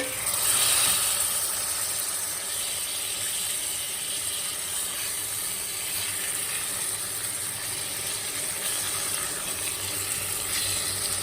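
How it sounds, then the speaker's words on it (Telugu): Prawns frying in oil with sorrel leaves, a steady close sizzle and hiss that holds evenly throughout with no speech. "ఈ ఆయిల్లో ఇవి కొంచెం సేపు వేగనిద్దాము"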